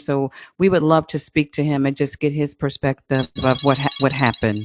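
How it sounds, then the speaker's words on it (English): A telephone rings in the background during a police chief's interview: a thin, repeating electronic tone in the second half of the clip, faint beneath steady close-up speech. "I apologize for the background phone ringing."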